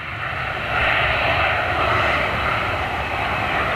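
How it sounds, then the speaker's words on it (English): A Boeing 757 airliner taxiing at Manchester Airport produces a loud, continuous jet-engine roar with a smooth whine, swelling slightly early on and then holding steady throughout. "So that's 757 taxiing up."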